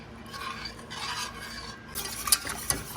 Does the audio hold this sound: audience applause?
no